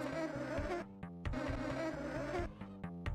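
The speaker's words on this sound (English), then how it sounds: "the bee noise. Stop the bees." A steady, insect-like buzzing of bees drones continuously in the retro platformer Sir Fred: The Legend, with a repeating electronic pulse beneath it and no voices.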